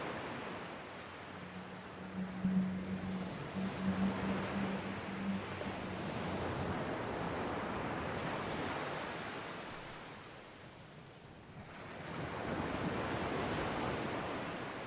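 Ocean waves break on a sandy shore with wind blowing, a continuous soft surf wash that swells and recedes, easing off briefly before building again. A faint low tone hums early on.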